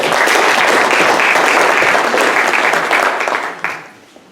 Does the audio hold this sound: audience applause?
yes